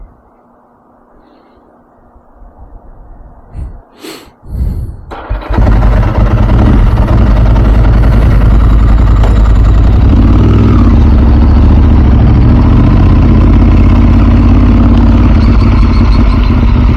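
A Ducati 996 SPS motorcycle starts with a few clunks and cranking, then its engine catches and settles into a loud, steady, close-up idle with a deep rumbling throb.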